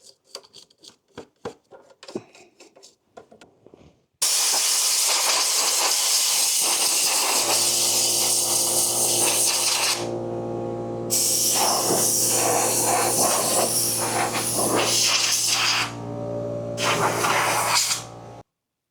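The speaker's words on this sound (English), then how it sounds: "An air compressor to blow this out is also going to be handy" An air compressor blows out an RV refrigerator with a loud, continuous hiss of compressed air that runs in long bursts with brief dips, after some scattered clicks and handling noises.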